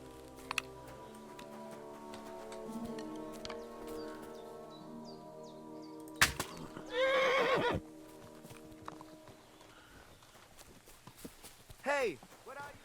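In Kingdom Come: Deliverance II, a horse hit with a poison arrow gives a loud, close neigh midway and a shorter whinny near the end, with hoof clip-clops and a brief bit of voice in between.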